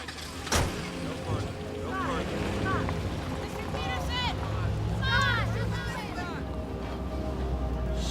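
A car engine rumbles and pulls away, its drone swelling and then holding steady under overlapping speech and shouting from people left behind.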